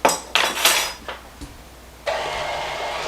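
An egg being mixed into cookie dough in a bowl, heard as several sharp clinks and scrapes of a utensil against the bowl. A steadier mixing rustle follows, close and moderately loud.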